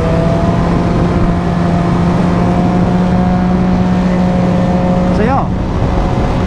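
Triumph Daytona 675R motorcycle lapping a track, its engine a steady loud drone with a constant whine, climbing in a quick rev near the end, while a rider talks over it.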